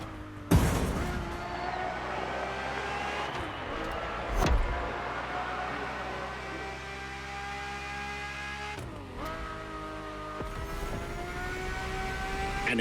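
Ferrari sports car with a carbon fiber monocoque, its engine droning steadily from the cabin, with a loud revving burst near the start and a few more surges, held at a sustained harmonic tone throughout.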